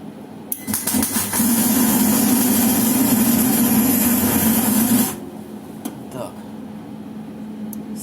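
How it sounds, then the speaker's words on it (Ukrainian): Wire feed drive of an SSVA-180-P semi-automatic welder under repair, running at a feed setting of 50, a loud steady motor whine and hum lasting several seconds before cutting off abruptly, with someone talking. "Давайте тепер 50 одиниць скорості подачі поставимо. Поганяємо привод"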